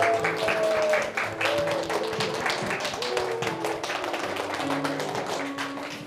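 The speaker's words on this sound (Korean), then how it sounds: "박수 한번 주세요, 여러분." Applause for teachers at a youth church service: a short burst of clapping mixed with tapping sounds, loud at first and then settling to a lighter patter, with faint voices in the background.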